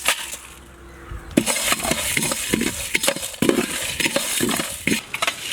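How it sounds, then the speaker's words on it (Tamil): Whole spices rattle and scrape as they dry roast in a hot pan, stirred repeatedly with sharp clinks of a utensil against metal, close and busy. "இது எல்லாத்தையும் போட்டு நல்லா வறுத்துக்க போகிறோம்"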